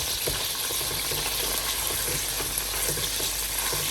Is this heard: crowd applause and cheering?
no